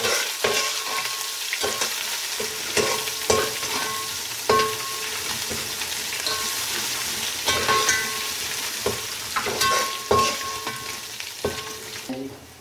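Ginger garlic paste is sautéed for matar pulao, with a steady sizzle under regular scraping stirs and utensil taps that repeat every second or so, close and fairly loud, with no talking.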